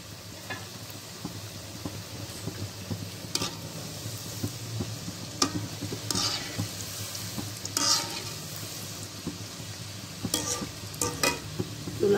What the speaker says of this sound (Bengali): এখানে কড়াইয়ে তেল গরম হয়ে গেছে এবার আমি এটাতে কটকটিগুলা দিয়ে দেব